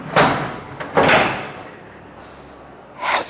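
Sliding cover on an E30 M3 ute being closed with its internal latches released: three short, loud sliding clunks and rattles with a quieter pause between them.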